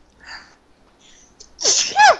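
A person sneezes loudly and close by during a tabletop Dungeons & Dragons game session, a sharp explosive burst after a quiet moment with faint softer sounds before it.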